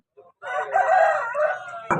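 A rooster at a Vijayawada rooster market lets out one loud, close crow lasting over a second, preceded by a short clucking note and ending in a clipped sound.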